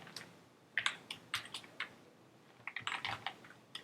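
Typing on a computer keyboard while writing code for a simple GUI, close, quiet clusters of key clicks with short pauses between bursts.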